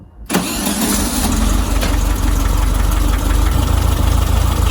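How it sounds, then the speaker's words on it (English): A Volkswagen Beetle engine cranks and catches after a brief near-silent start, then settles into a loud, steady, rumbling idle close by. "let's start the engine up and see how it works"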